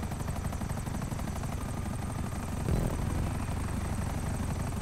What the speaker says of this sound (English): I love flying these helicopters.